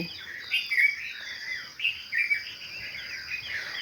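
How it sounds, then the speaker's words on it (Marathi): Bright bird chirps at dawn come in short bursts over a quiet, steady insect-like hum, fairly close and clear with no voices. "आणि पक्षी मस्तपैकी चुचवाट कलकलाट करत आहे"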